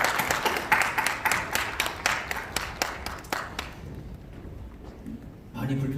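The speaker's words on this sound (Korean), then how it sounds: "우리 하나님께 영광의 박수 올리겠습니다." A church congregation at an anniversary worship service claps in praise, with steady, fairly close handclaps that thin out and fade, followed by a voice at the end.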